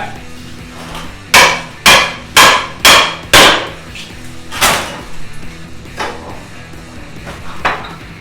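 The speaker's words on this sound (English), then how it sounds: "If the door fails to force completely open, you can always reset your tool and go back to an adze roll to finish the job." Halligan bar forcing a door during forcible entry: five loud, evenly spaced metallic strikes in quick succession, then a sixth blow and some fainter clatter and knocks.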